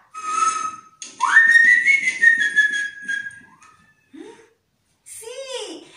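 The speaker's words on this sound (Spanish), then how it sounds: "¡Sí! ¡Ese silbido!" A person whistles a sustained tune with rising and sliding notes, loud and close, with a few breathy sounds and some short voiced noises at the end.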